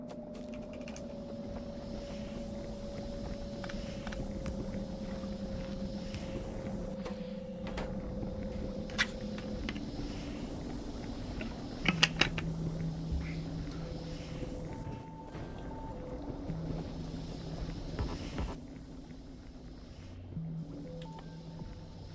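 A car driven in the video game Factorio: Space Age gives off a steady, droning engine hum that holds at an even level, with scattered clicks and short game effects on top.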